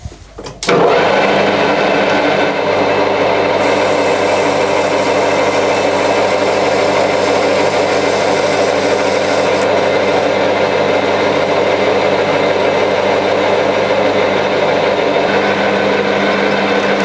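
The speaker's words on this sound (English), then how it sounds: "Love machining brass," Brass workpiece being machined on a lathe, a steady continuous whirring and cutting drone that holds level and loud from start to finish, with no talking over it.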